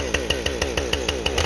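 A Stihl MS 170/180 chainsaw engine runs right after starting, with rapid, evenly spaced pops and a buzzing two-stroke rhythm close to the microphone.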